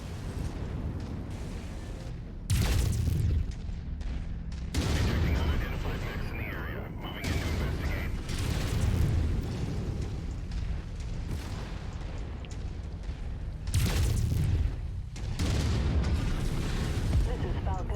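Heavy booms and blasts in the mech combat game MechWarrior 5 as a tank is destroyed, with repeated loud explosions and weapon fire rumbling throughout and a voice talking over parts of it.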